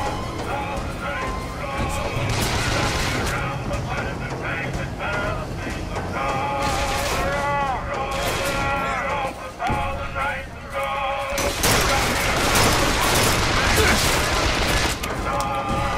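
Video game gunfire in BioShock Infinite comes in bursts under busy game music and effects, with someone talking over parts of it.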